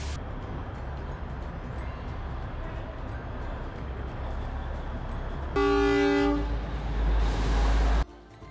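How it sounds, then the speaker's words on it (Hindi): Matheran toy train on the hill railway, with a steady rumble of rolling stock and a loud horn blast sounding late in the clip, close and prominent. "जैसे आप देख सकते हो टॉय ट्रेन चलने को तैयार है।"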